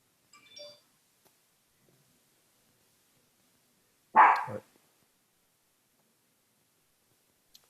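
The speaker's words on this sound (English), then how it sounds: "That was somebody's dog." A single dog bark rings out near 4.2 seconds in an otherwise quiet room during a remote town board meeting, with a faint short sound earlier and no talking.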